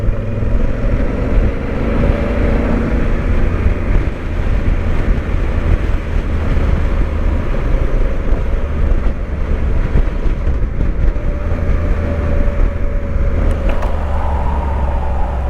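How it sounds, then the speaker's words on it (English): Strong Wyoming wind roars against a moving motorcycle, a loud, constant buffeting rush mixed with engine rumble throughout. "The wind is definitely picking up."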